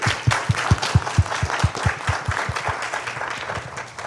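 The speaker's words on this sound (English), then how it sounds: "let's give him a big round of applause" Audience at a real-estate meetup giving a round of applause: dense steady clapping from a room-sized crowd, with strong low rhythmic thumps near the mic, fading slightly toward the end.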